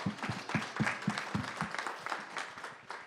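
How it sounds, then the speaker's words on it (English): At a San Francisco tech demo night, a crowd gives a short round of applause for a startup demo called Data. Moderately close, pulsing claps carry on steadily for about three seconds. "Round of applause for Data."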